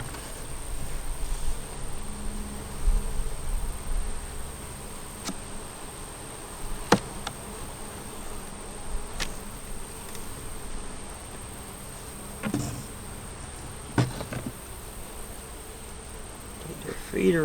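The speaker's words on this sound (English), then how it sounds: "Not many bees up at the top." Honeybees buzz steadily from an open beehive as the hive is inspected outdoors, a continuous soft drone with a few brief knocks and clicks over it.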